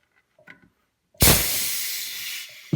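Carbon dioxide bursting from a fermenting bottle of mead or ginger beer as its cap is loosened, a sudden loud hiss that holds steady for over a second after faint handling clicks, then a final sharp pop.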